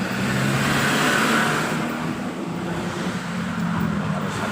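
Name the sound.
trucks driving on a winding mountain road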